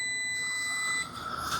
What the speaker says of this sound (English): it also gives a continuity beep.